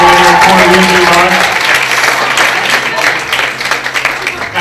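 Loud audience applause for the contestants of a game show, dense steady clapping from a studio crowd that thins slightly toward the end.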